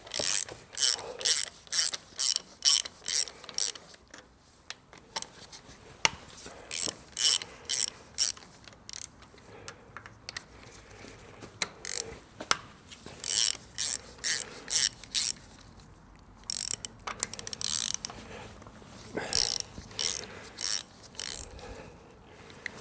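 A ratchet socket wrench clicks in repeated bursts of rapid ratcheting while loosening bolts on the cylinder head of a Zetor 6711 tractor, close and fairly loud, with short pauses between strokes and no talking.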